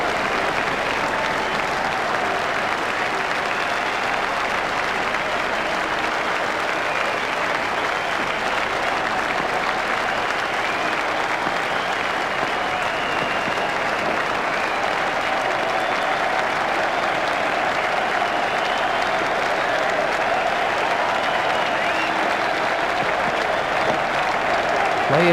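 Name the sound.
cricket crowd applauding a century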